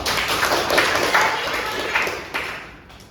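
Audience at an Indonesian talk on the ethics and risks of artificial intelligence clapping hands, a dense burst of applause that swells and then fades out over a few seconds.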